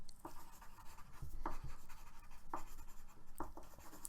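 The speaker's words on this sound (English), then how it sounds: "I'm gonna write it down right now." Pen scratching on paper as someone jots a note, with short scribbling strokes and small taps in an irregular rhythm, close-up and fairly quiet, no voices.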